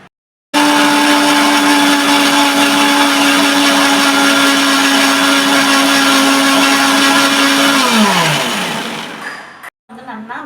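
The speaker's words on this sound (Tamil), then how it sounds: "இந்த சொலையை மட்டும் நம்ம அரைச்சிட்டு வரலாம் நைஸாக." An electric kitchen blender grinds cooked jackfruit pulp into a smooth paste for jackfruit payasam, a loud steady motor whine running for about eight seconds before winding down and stopping.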